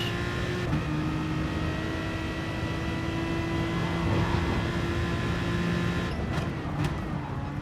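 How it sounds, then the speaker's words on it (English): A racing car engine drones steadily at high revs while lapping the Nürburgring Nordschleife in a racing game, its loud, sustained tone shifting slightly in pitch, with brief gear-change or kerb clatter near the end. "Good way to spend a few minutes racing away on Nords."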